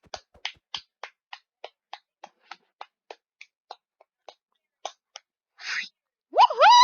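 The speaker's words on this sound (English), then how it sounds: "Let's give" A few people clap for Enzo in sparse, evenly spaced claps that slow and stop, followed by a short burst of noise and then a rising vocal whoop.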